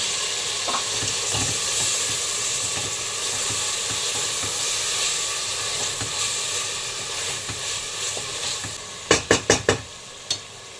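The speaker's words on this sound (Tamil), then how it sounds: "தக்காளி கொஞ்சம் சாஃப்டாக வதங்கட்டும்" Chopped tomatoes and onions sauté in a pan for chicken gravy, a steady close sizzle with soft stirring, then a quick run of sharp spoon knocks against the pan near the end.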